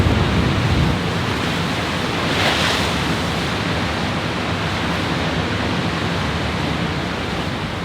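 Ocean surf and strong wind off the Antarctic coast, a dense continuous roar of breaking waves and wind buffeting the microphone, steady and loud throughout with no voices.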